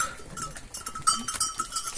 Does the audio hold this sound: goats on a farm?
yes